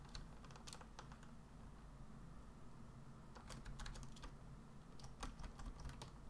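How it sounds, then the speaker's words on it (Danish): Fingers type on a computer keyboard in scattered quick clusters of light clicks over a low steady background hum, with short pauses between the bursts. "Og så skriver vi."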